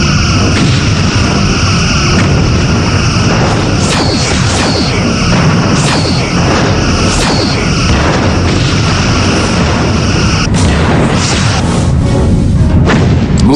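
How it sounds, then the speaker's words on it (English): Torpedoes launching in a Star Trek Bridge Commander space battle: a dense run of loud booming blasts and bursts, with whooshing discharges layered over constant engine hum and tonal music. "Lining up forward torpedo tubes."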